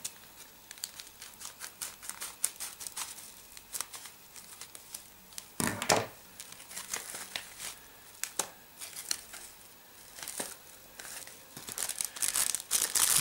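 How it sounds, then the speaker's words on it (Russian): Plastic packaging from a parcel from China crinkles and rustles up close in quick, irregular bursts as it is handled and opened, with no voices. "Сегодня у меня очередная распаковка посылки из Китая."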